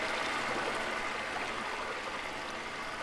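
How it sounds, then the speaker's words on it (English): A stream flows in an even, soft rush of water that runs on without a break. "I'd love to keep hearing the stream."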